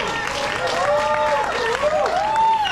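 An audience claps at a live music show at Downtown Barra da Tijuca in Rio de Janeiro, a steady patter of applause running under a voice that speaks over it.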